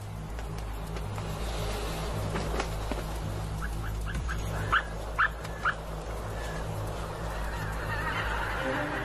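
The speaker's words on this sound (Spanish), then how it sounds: "Los gansos pasan la noche sobre aguas decrecidas, donde se sienten a salvo." Geese resting overnight on shallow water give a few short honks in quick succession, moderately near, over a low steady background rumble.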